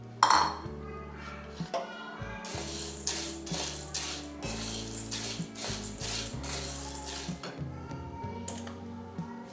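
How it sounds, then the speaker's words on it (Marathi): Chana dal dry-roasting in a pan over a medium-low flame for chakli, with a steady run of light scraping, rattling and clinking from stirring, close and continuous, over a low background hum. "तर आपण सर्वप्रथम चणा डाळ भाजून घेऊ."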